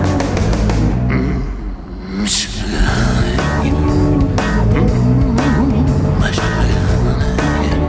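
A Porsche 911 Carrera GTS T-Hybrid convertible drives with its roof open, the engine loud and near with a strong, rising rev and a brief dip before pulling on steadily, with wind rush around it.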